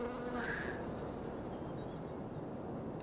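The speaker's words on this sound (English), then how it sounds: "This large bee was able to find, in the eastern coasts, a similar habitat to its African origins. With its long proboscis, it sucks the rich nectar of these flowers." A large bee buzzes while feeding on flower nectar along the coast of the Canary Islands, a steady close drone that holds through the clip against faint background noise.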